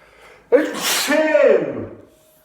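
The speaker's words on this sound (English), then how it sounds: "I'm going to sneeze." A single close sneeze: a sharp intake of breath followed by a forceful, noisy burst that trails off quickly.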